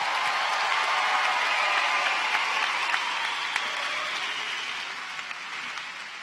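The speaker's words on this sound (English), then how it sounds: "Pat your backs, cheer extra loud for yourself tonight." Graduates at a university business school commencement ceremony applaud loudly and steadily with scattered cheers, a dense wash of clapping from a large crowd that slowly fades.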